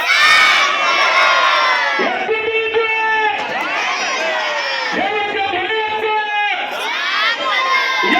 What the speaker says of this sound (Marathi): तर तुम्ही गर्दी बघू शकता किती अशी गर्दी आहे